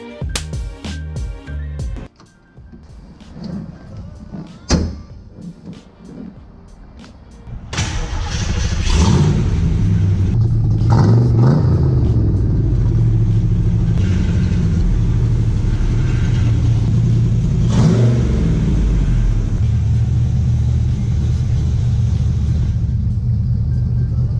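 Engine of a 1965 Cobra starting up and rumbling steadily in a garage, with a loud low idle and revving that continues for most of the stretch after a few quieter clunks.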